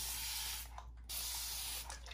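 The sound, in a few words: misty spray bottle spraying water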